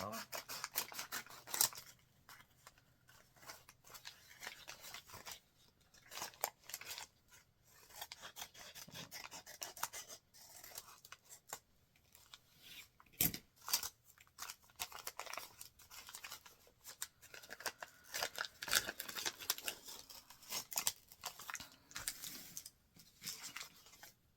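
Scissors snip apart an M&M's candy wrapper, with faint irregular crinkling, rustling and cutting sounds scattered over a quiet background.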